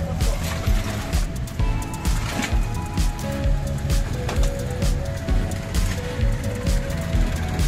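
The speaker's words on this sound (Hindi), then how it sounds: "ये अच्छी खासी धूप के बीच में ही ज़ोर से बारिश आ गई है" Heavy rain pours down at a fruit and vegetable market in Lonavala during sunshine, a dense steady hiss of drops on surfaces with patter nearby, continuous and loud throughout.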